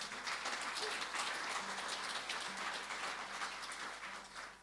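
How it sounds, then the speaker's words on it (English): Moderate audience clapping at the Port Fairy Folk Festival, an even, fairly quiet patter of many hands with a faint low hum beneath it. "And a round of applause for Dean on sound."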